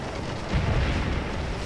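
Massed musket gunfire and artillery in the Napoleonic-era strategy game Scourge of War, a dense continuous rumble of distant firing with a heavier boom swelling briefly in the middle.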